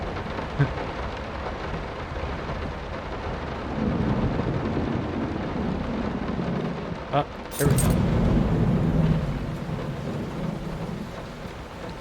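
Storm rain and rumbling thunder in the horror video game Layers of Fear, a steady downpour with a sharp thunder crack midway, and someone talking briefly over it.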